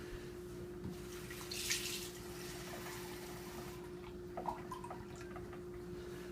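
Water trickles faintly into a beef jerky marinade of soy sauce and other wet ingredients, a soft pouring with a few small splashes and drips over a low steady background hum.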